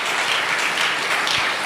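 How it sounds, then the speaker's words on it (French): A church congregation claps and cheers together, a dense, even wash of applause that lasts the whole moment without pause. "Nous acclamons."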